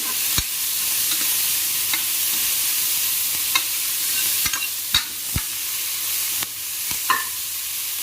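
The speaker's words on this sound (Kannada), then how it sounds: "ಸ್ವಲ್ಪ ಹೊತ್ತು ಫ್ರೈ ಮಾಡುವ." Chicken masala with ginger and garlic frying in a pan in a Mangalore-style country chicken kori sukka, a steady close hiss with sharp spoon scrapes and stirring clatters at irregular intervals.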